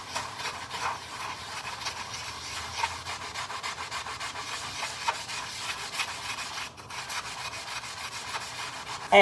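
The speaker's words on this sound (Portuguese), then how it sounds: "E eu vou passar a esponja aqui pra ver se ela vai resolver também essa questão aqui, esse problema." A sponge scrubs sticker marks off a painted wall in a steady, close, continuous rubbing hiss with small rhythmic strokes and no talk.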